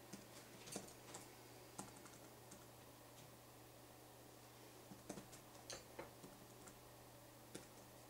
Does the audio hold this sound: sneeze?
no